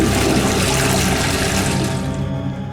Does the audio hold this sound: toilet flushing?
yes